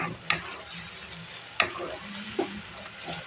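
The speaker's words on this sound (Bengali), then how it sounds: "চিংড়ি মাছটা আমার তাজা একদম সেই জন্য আমি একটু পরেই দিলাম এখন এটা আমার ভাজা ভাজা হয়ে গেলে আমি শাকটা দিই" Fresh shrimp fry in a pan with a soft, continuous sizzle, punctuated by three sharp clicks of a utensil stirring against the pan, close and fairly quiet.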